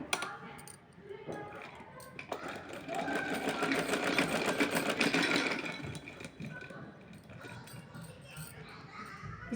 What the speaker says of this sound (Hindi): तो इस पर यहाँ से मैं इस पर सिलाई लगाना शुरू करूँगी।